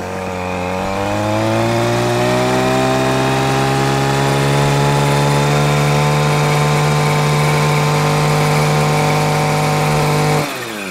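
A Stihl FS 94 C-E petrol brush cutter engine runs steadily and close by, its buzzing drone rising slightly in pitch early on and holding constant before cutting off abruptly near the end.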